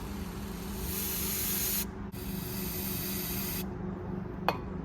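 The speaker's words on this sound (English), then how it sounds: "and then I just spray it out with brake cleaner." Brake cleaner sprays in a steady close hiss from an aerosol can into a brake bleeder on a Falcon that sat for 46 years, with two brief pauses and a short click near the end.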